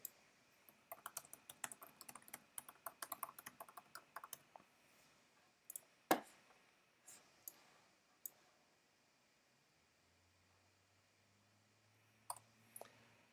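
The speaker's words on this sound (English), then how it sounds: "and then start typing" Computer keyboard typing in bursts of rapid clicks, fairly close and quiet, with scattered single key taps and pauses between runs during a classroom software tutorial.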